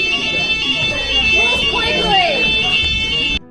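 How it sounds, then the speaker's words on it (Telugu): A fire alarm sounding at a Coventry University London campus building, a continuous shrill electronic tone held steady and loud throughout, with muffled voices and movement beneath it until it cuts off abruptly. "సడన్గా మా కాలేజీలో ఫైర్ అలారమ్స్ మోగినాయి"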